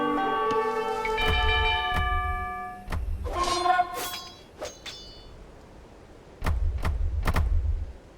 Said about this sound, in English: use the town bell to garrison them in your town centre